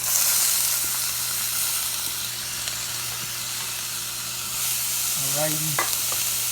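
Sliced onion hitting hot oil in a pan for a fish curry: a steady, even sizzle and hiss throughout, with a brief stir-like scrape near the end and a short spoken word.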